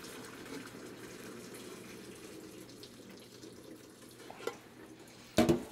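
Boiled potatoes are drained, and the water pours in a steady, moderate gush into a sink, ending with a few louder splashes and clunks of the pot.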